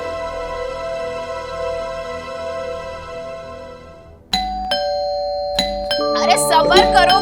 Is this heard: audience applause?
no